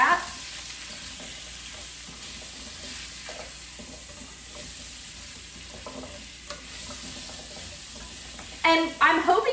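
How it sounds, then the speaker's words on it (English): Vegetables for coq au vin sear in hot fat in a pan, a steady sizzle with occasional stirring scrapes, and a brief louder clatter at the end. "I'm going to go ahead and get everything tossed in that fat"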